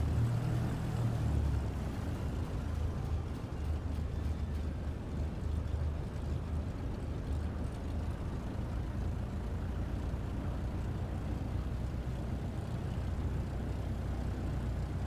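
A Cessna taxis in Microsoft Flight Simulator 2024, its engine a steady, low, droning rumble that holds even and continuous throughout, with no voices over it.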